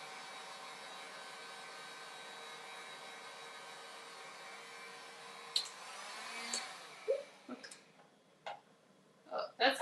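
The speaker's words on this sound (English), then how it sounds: "I'm going to do the heat gun on the low setting" A heat gun on its low setting, warming a corner of Worbla thermoplastic, blows with a steady, quiet whirring hiss for several seconds, then clicks and handling knocks break in near the end.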